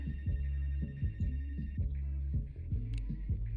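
A telephone in the video game Life is Strange: Wavelengths rings with a steady repeating pulse over a low throbbing hum, fairly close and with no talking.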